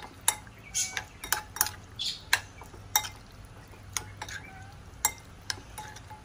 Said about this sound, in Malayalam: നന്നായിട്ടൊന്ന് മിക്സ് ചെയ്യുക.